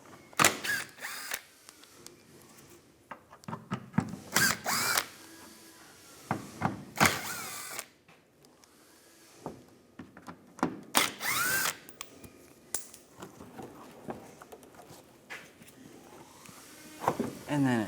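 Power drill with a T30 socket backing out front bumper screws on a 2015-2019 Lincoln MKC, heard as several short, close whirring bursts separated by pauses and quiet handling noise.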